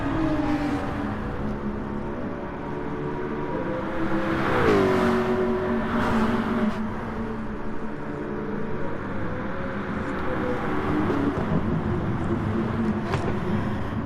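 GT3 race cars lapping Suzuka in a sim racing game, engines droning steadily with harmonic whine, pitch sweeping down and up through corners as cars pass close together, continuous and loud.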